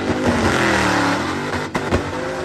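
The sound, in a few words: blown LS engine revving during a burnout run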